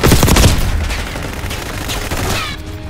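Video game gunfire in dense, rapid volleys, loud and close, with heavy bursts at the start that settle into continuous crackling fire and no talk.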